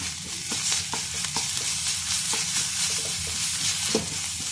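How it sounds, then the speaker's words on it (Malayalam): Ginger garlic paste and onions sizzle and fry steadily in a pan for kadai chicken, with repeated clinks and scrapes of a spoon stirring throughout, no talking. "ഞാൻ ഇഞ്ചി വെളുത്തുള്ളി പേസ്റ്റ് 2 ടേബിൾ സ്പൂൺ ഇതിനകത്തോട്ട് ഇട്ട് കൊടുക്കുവാണ്. അപ്പോൾ ഇതും കൂടെ നമുക്ക് നന്നായിട്ടൊന്ന് വഴറ്റി കൊടുക്കാം"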